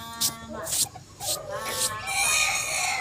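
Pet ducks quack and call repeatedly while waiting for food, several nasal honking bursts close by with a person talking over them.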